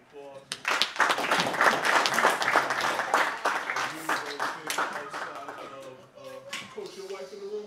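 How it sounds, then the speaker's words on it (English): A roomful of people applauds a varsity football coach and his staff at an indoor gathering, a dense round of clapping that swells and then fades, with someone speaking toward the end. "Give Coach Hampton and his staff another round of applause."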